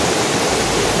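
Devkund waterfall in Odisha rushes in the rainy season with a loud, dense, steady roar of falling water close by.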